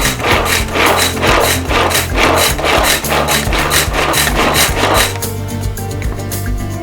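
Garlic is ground into small pieces for garlic butter naan, with rhythmic scraping, rasping strokes at roughly two per second, loud and close, before the grinding eases off into a quieter steady tone near the end.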